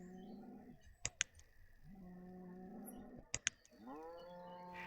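Cattle lowing in the village-building game Banished, two drawn-out moos separated by pairs of sharp clicks, with a fainter moo rising at the end, moderately quiet and with no voices.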